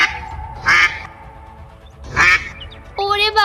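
A mother duck quacks loudly in two harsh bursts, then lets out a tonal honking cry, with a voice speaking in between.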